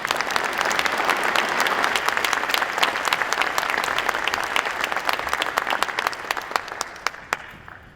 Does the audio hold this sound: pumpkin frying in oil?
no